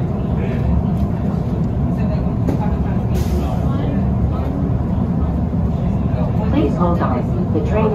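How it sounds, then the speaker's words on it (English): A Miami Metromover train approaches Riverwalk Station with a steady, loud rumble of motor and rolling wheels throughout, and a recorded announcement voice plays over it. "Please hold on. The train is approaching."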